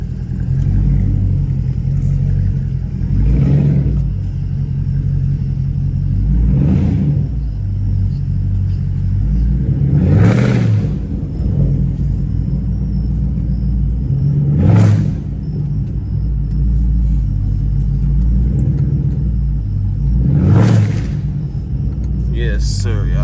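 A catless Chrysler 300 Hemi rumbles at a deep, loud idle, with about five sharp revs rising over it at intervals of a few seconds.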